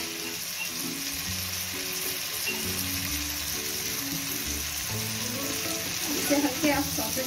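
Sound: vegetables sautéing in a pan for homemade pizza

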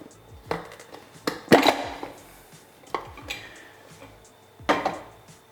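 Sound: handling a film developing tank

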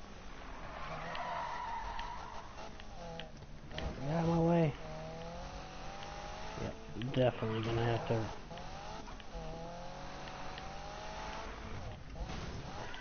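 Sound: car driving and skidding in a video game

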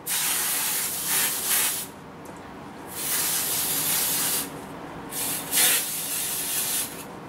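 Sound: aerosol spray can spraying

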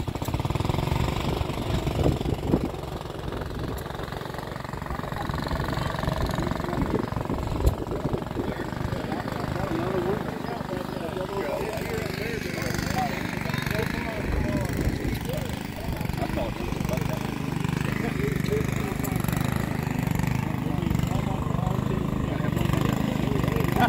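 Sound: Gibson lever-steer tractor with Wisconsin engine running

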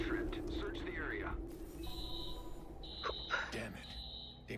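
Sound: alarm tripped in the video game Watch Dogs

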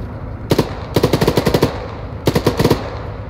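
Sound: machine gun fire in video game Arma 3

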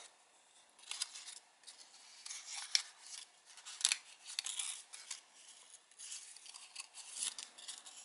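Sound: folding paper for an origami propeller toy

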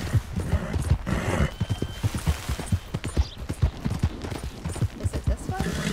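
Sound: horses trotting and neighing in video game

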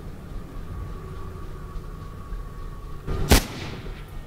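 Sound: gunshots in video game Mirror's Edge

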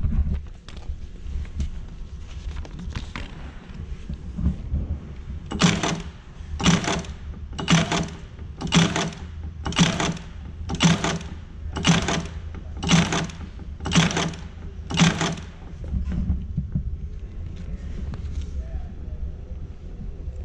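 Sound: Acme Interlake saddle stitcher running, stitching with wire

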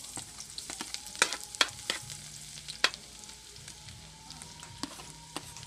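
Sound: garlic frying in hot oil

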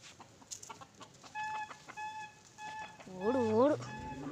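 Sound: chickens clucking

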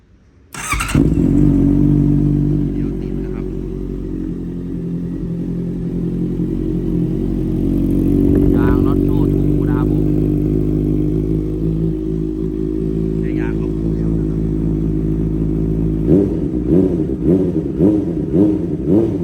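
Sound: motorcycle engine starting and revving

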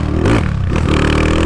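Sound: Honda Today motorcycle accelerating in second gear

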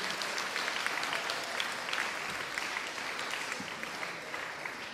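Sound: audience applause at a school house music event

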